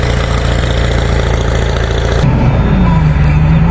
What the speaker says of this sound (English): That fan clutch is really stuck on.